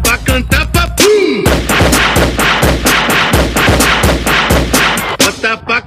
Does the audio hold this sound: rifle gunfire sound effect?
yes